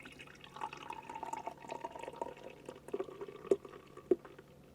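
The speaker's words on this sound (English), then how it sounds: "if I just pour my cruise campo in my tea mug" A drink of Campo poured into a tea mug, faint trickling and small liquid splashes with a few sharper drips near the end, close and quiet with no talk.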